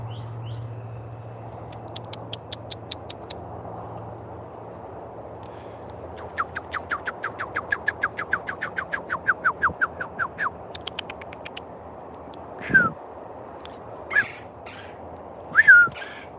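Small birds in a tree give a long series of rapid, evenly spaced whistled notes that rise in loudness and then fade. A few sharper separate chirps follow near the end over steady background hiss.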